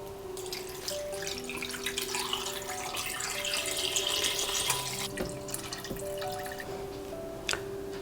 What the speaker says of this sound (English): So I'm going to add filtered water up to the maximum line of my Instant Pot.